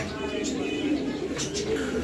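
A pigeon held in the hand coos softly in short low murmurs close by, amid a pigeon sale, with background chatter and room noise continuing throughout.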